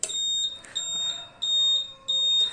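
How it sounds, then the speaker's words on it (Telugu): An add-on turn indicator buzzer on a Royal Enfield motorcycle beeps in a steady on-off pattern, with four high electronic tones close to the microphone. "ఆ బీప్ సౌండ్ ఉంది కదా, బజర్ సౌండ్"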